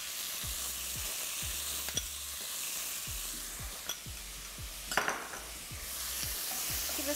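A spoon stirs chicken hotpot with Dijon mustard in a pot over a steady sizzle, scraping in rhythmic strokes about twice a second, with occasional clinks against the pot and no talking.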